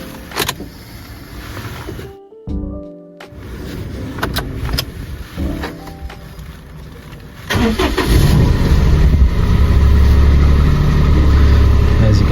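A 2009 Subaru Justy engine cranks briefly and catches, settling into a loud steady idle after a few clicks and mechanical clunks.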